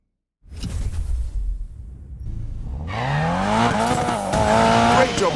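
A car drifting in Need for Speed Payback squeals its tires in rising, wavering tones over a revving engine, loud and sustained after an initial rush of motor noise.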